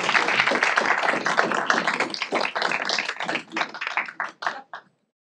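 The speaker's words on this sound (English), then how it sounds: "round of applause for that" An audience at a climate research center's annual event claps in a lively round of applause that thins into scattered individual claps before stopping abruptly.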